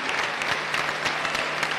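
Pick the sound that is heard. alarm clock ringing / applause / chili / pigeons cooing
applause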